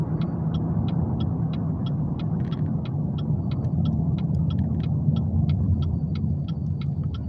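A car engine rumbles steadily and low while driving, with road noise and a regular light ticking throughout; no talking.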